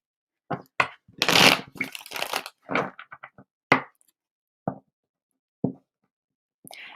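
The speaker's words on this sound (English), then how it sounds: "Let me get 2 more clearing shuffles in, Sherry, and then we'll get on your reading." Tarot cards are shuffled by hand in a few quick riffling bursts, then single sharp taps as the deck is squared, close and dry with quiet gaps between.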